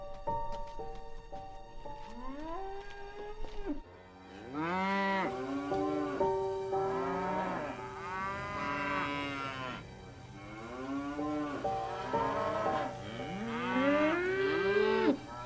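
Several cows moo repeatedly on a farm, long drawn-out calls overlapping one another at close to moderate distance, with a faint tonal hum in the background.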